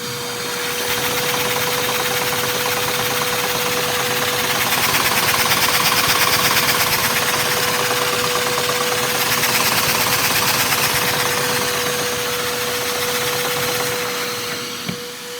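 A giant 12x12-piston LEGO vacuum engine runs continuously at about 85 RPM with a steady whirring hum and a fixed whining tone, loud and close throughout, without pauses.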